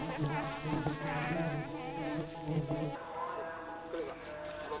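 Kelulut stingless bees around a home honey-keeping yard give a continuous buzzing hum beneath a voice talking, which fades after a few seconds, leaving the buzz alone.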